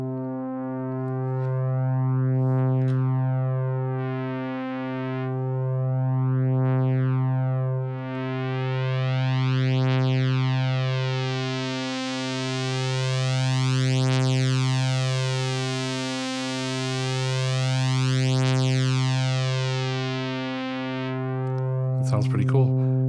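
Modular synthesizer through a Zagrzeb module in low pass mode, a sustained buzzy tone pulsing in slow swells while the filter cutoff rises from closed, brightening steadily until the top end opens fully, alone with no voice.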